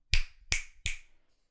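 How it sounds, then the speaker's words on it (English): Three sharp finger snaps made behind an Audio-Technica AT2020 condenser microphone, evenly spaced and crisp, each with a brief decaying tail and no talking. "If I were to snap my fingers behind this microphone"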